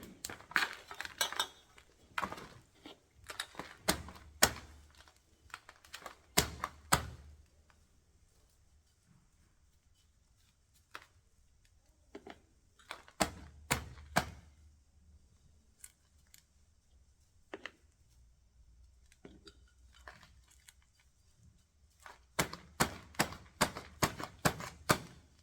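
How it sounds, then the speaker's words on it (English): While succulents are being repotted, soil is tucked into a narrow pot, giving clusters of sharp clicks, taps and scrapes from tools against the pot. Quiet gaps fall between the bursts, and no one speaks. "Just tucking in soil in there"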